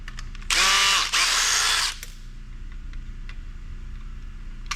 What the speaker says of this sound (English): Get these screws out of here.